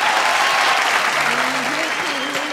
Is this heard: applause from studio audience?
yes